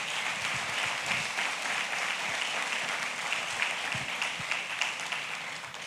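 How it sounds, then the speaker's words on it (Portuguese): A church congregation gives a sustained round of applause, a dense, even patter of many hands clapping at once, moderately loud and steady throughout with no speech over it. "Vamos dar uma salva de palmas pela vontade do Senhor."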